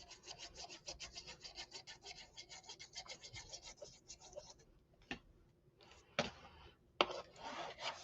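Long sides of a paper craft accordion folio rubbed down with a burnishing tool, fast close back-and-forth scratchy strokes that fade after a few seconds into scattered taps and softer rubs, fairly quiet overall.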